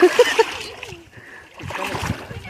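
Feet splashing and sloshing while wading through a muddy river, with a few sharp splashes early on, then a quieter pause before more splashing and gurgling water, with voices nearby.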